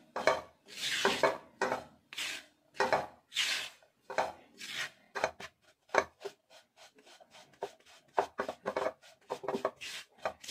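Gram flour dry-roasting in a pan for besan ladoo, stirred steadily with a spoon: repeated close scraping and rubbing strokes in an uneven rhythm, with no voices.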